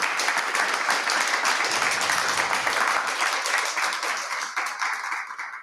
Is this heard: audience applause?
yes